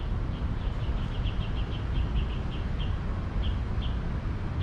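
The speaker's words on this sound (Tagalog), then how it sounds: "Ayun, may ibon tayong narinig." Small birds chirp by the Pasig River, near the Esplanade construction site. Short, high, faint calls repeat in a loose series over a loud, steady wash of low outdoor noise.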